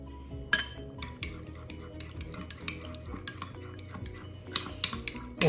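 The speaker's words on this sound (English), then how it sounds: "And then we're just gonna go ahead and mix it." A utensil stirs smash burger sauce in a bowl, giving a steady scraping swirl with occasional clinks against the dish. The sound is close and alone, with no talking.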